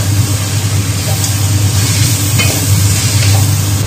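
Pork ribs are stir-fried over high heat in a wok, giving a loud, dense sizzle with scraping stir strokes and a continuous roar from the burner.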